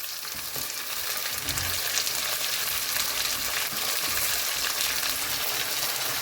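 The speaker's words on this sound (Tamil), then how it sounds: "வதங்கினதுக்கப்புறம் தக்காளி போட போகிறோம்." Tomatoes frying in a pan with softened onions and curry leaves for mango sambar, a dense, steady sizzle heard close and continuous throughout, with faint stirring and no voices.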